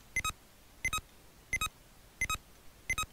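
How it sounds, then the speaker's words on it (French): A Game Boy Mario game gives five short, sharp electronic double beeps at an even rhythm, each separated by quiet gaps, clear and alone. "C'est insupportable tous ces bips"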